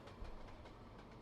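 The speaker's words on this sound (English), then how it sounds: "There's another local train there." A local train rolls past in Trainz Simulator 2 on a Paris Gare du Nord route, a faint, steady rumble with soft rhythmic clatter and no voices.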